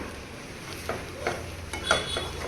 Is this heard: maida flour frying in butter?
yes